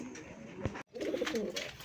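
Domestic pigeons of old local breeds and Raj Golla pigeons coo in soft repeated throaty bursts, close by and moderately loud, with a brief gap midway and steady cooing resuming after it.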